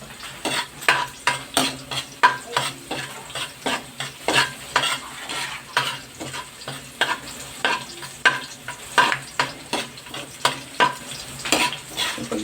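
Garlic frying in hot oil while being stirred until golden, a steady close sizzle broken by a run of regular scraping stir strokes against the pan, about two per second, with no talk.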